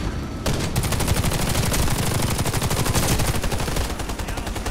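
Sustained rapid automatic gunfire in the first-person shooter Warface, loud and close, a dense continuous burst of shots running almost the whole time without talk.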